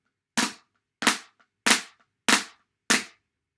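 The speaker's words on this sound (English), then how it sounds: "this is what it sounds like just played on a book" Five sharp drumstick hits land on a book at an even pace, each a quick double strike with a slight flam, crisp and close.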